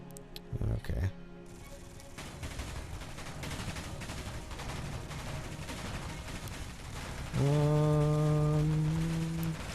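Weapon fire in the video game Space Engineers: dense, sustained crackling bursts of gunfire spread across the scene, with a sharp opening shot and a loud sustained tone entering near the end.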